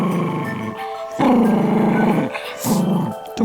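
A dog's low, rumbling growls in several sustained bursts with brief pauses between, loud and close, with a short sharper sound near the end.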